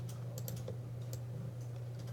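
Someone types a quick, irregular burst of keystrokes on a computer keyboard, the clicks soft and close against a low steady hum.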